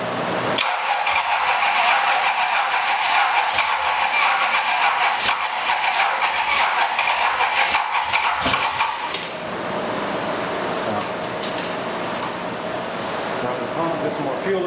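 An old drag car engine cranks and sputters, trying to catch and run roughly, loud and close with repeated uneven bursts; the tone shifts partway through.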